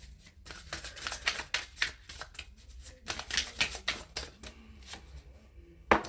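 Tarot cards are shuffled close up in a quiet room, giving a series of crisp riffling and slapping bursts in an irregular rhythm over several seconds.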